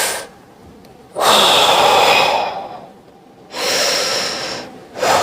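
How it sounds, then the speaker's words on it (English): Deep, slow breaths during a mid and upper back stretching exercise, two long loud inhales or exhales close to the microphone separated by quiet pauses, with a third beginning at the end and no talking. "So breathe in."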